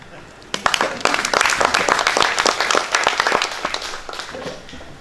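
Conference audience at a Kenyan professional gathering breaks into applause, a dense, steady burst of many hands clapping that starts abruptly, stays loud and sustained for several seconds, then thins slightly near the end.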